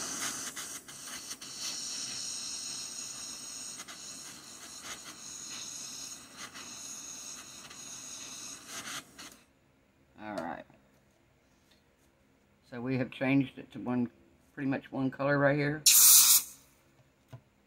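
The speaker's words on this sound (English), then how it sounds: "Hear that sizzle? That tells you that's how hot it is" Hot copper hissing and sizzling as it is heated with a torch, a steady broad hiss for several seconds that then stops, followed by someone talking close by.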